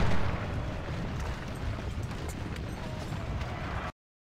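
Continuous distant rumble of cannon artillery fire across a Civil War battle in Ultimate General: Civil War, a fairly quiet, steady wash of booms that cuts off abruptly near the end.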